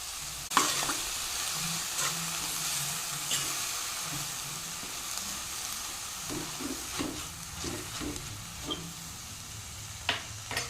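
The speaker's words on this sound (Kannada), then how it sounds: "ಈಗ ನಾನು ಸಿಹಿ ಕುಂಬಳಕಾಯಿಯ ಸೊಪ್ಪನ್ನು ಹಾಕ್ತೇನೆ ಸಪೂರವಾಗಿ ಕಟ್ ಮಾಡಿ ತೊಗೊಂಡಿದ್ದೇನೆ" Finely cut sweet pumpkin leaves fry in a pan with green chilli and ginger, giving a close, steady sizzle broken by spoon stirs and scraping clicks throughout.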